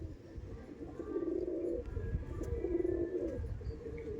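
Madrasi pigeons coo in low, throaty bursts, two clear rounds of cooing rising over a steady murmur of nearby birds and soft background noise.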